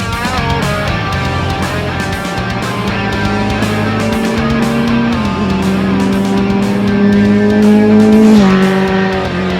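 Engine of a 1994 Kawasaki ZX6 Ninja motorcycle running loud and steady, its pitch holding, then stepping up a little in two stages toward the end, with no talk over it.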